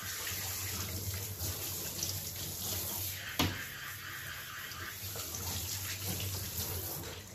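Running water pours steadily from a tap or shower sprayer as shampoo is rinsed off a Shih Tzu, a continuous close hiss with a brief knock partway through.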